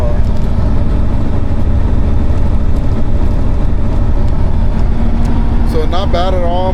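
Steady, loud road rumble inside a diesel vehicle cruising at 65 miles an hour, a continuous low engine and tire drone with no breaks, while a voice talks over it near the end.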